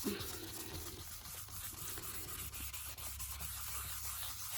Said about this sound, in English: Now we'll just scuff him up a little bit.